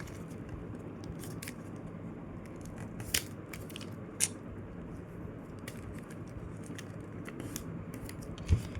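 Paper being creased and folded by hand into a paper airplane, giving soft, faint rustles and a few small crisp clicks against a quiet room background.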